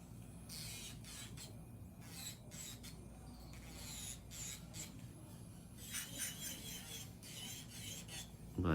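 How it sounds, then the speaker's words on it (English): An electric nail drill files down an acrylic nail near the cuticle, a close, high rasping grind in repeated short passes over a low steady hum. "I'll be able to drill a little bit more"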